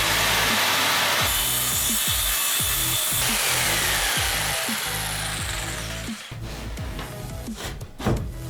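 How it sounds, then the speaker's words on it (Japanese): A jigsaw saws through scrap wood up close, its buzzing blade loud and steady with rhythmic strokes, then the cut ends and brief handling noises follow. "自分もちょっとジグソーを使います。 で残りの部分カットしていきます。"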